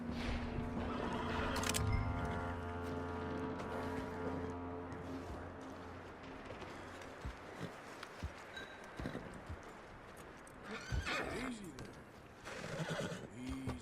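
A horse in the Red Dead Redemption 2 video game whinnies loudly in a long, shaky neigh, then its hooves clip-clop and shuffle while the game's background sounds and scattered noises go on.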